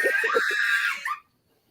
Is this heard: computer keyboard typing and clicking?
no